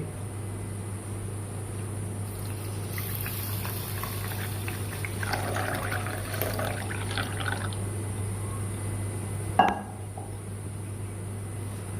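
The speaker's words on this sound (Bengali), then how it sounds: "সেই মতো আমি জল দিয়ে দিচ্ছি" Water is poured onto Gobindobhog rice in a pot, giving a steady liquid fill and gurgle under a constant low hum, with a sharp knock near the end; no voices.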